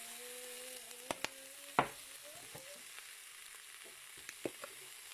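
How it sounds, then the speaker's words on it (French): Ginger being stirred as it fries in a wok for baby food, giving a soft steady sizzle with a few sharp scrapes and clicks of the spoon against the pan, close up and with no talking. "Je mélange de nouveau"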